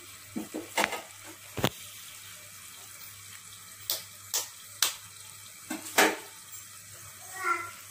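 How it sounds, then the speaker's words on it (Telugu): Eggs are cracked and dropped one after another into tomato curry simmering on low heat, a string of soft taps and wet plops at irregular intervals over a faint, steady bubbling hum. "ఇప్పుడు ఇందులో ఎగ్స్ వేసేసుకోవాలి."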